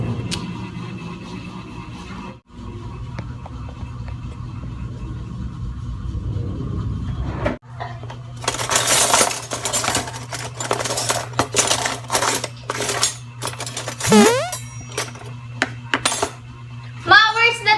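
Metal cutlery rattles and clinks in bursts while someone rummages through a drawer for a teaspoon, preceded by a steady low hum and rumble in the room.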